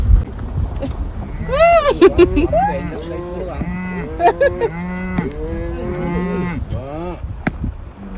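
Several cattle moo repeatedly, loud and close, their long bellowing calls overlapping, with wind and low rumbling in the background, at a riverside camp in Naryn, Kyrgyzstan.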